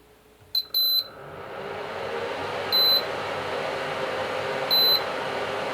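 A tabletop induction stove, powered up but not yet heating, gives short high electronic beeps: a quick double beep at first, then single beeps spaced about two seconds apart over a steady hum of room noise.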